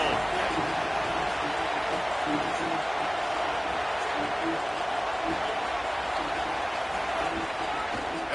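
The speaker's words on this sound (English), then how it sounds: "This crowd ready to make its presence known." Stadium crowd in the NCAA 27 football video game, a broad continuous roar of many voices holding at a steady loud level, with a commentator's voice running over it.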